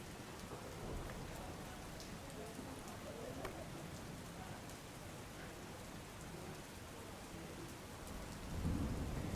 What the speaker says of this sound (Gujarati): વીજળીના કડાકા અને પવન સાથે વરસાદી ઝાપટું પડ્યું હતું।